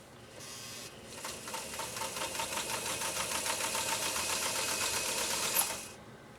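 A Singer 192K Spartan sewing machine stitches through thick leather, its rapid, even mechanical chatter running steadily for several seconds before stopping abruptly.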